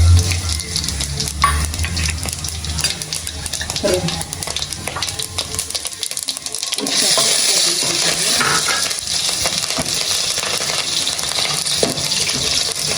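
Loud, steady sizzling of cumin seeds frying in hot oil in a pan, continuous hiss throughout with a brief stirring clatter near the start.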